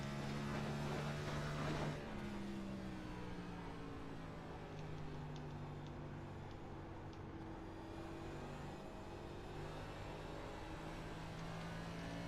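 Race car engine holding a steady high drone on throttle in a racing video game set at New Hampshire, rising slightly in pitch with harmonic whine throughout, continuous and close with no talk.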